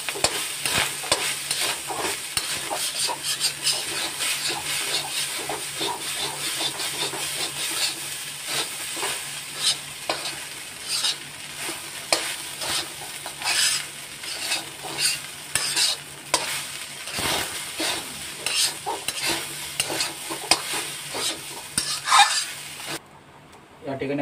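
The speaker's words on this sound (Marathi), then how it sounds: "आता आपण याला चांगलं परतून घ्यायचं।" Soya fried rice with Schezwan chutney is stir-fried in a pan, with a steady hiss of frying and repeated scraping, clattering strokes of a spatula that come in uneven bursts before stopping abruptly.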